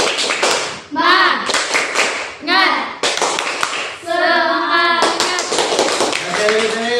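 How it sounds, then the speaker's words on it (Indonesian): Schoolchildren in an Indonesian classroom perform a rhythmic group clapping chant, with bursts of sharp, in-time claps alternating with their loud chanted voices, close and energetic. "Ayo, tepuk semangat."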